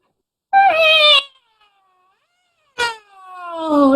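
Storyteller's voice imitating a cat's awful scream: two loud, wailing yowls with a long silent pause between, the second sliding downward and trailing into a rising strained cry.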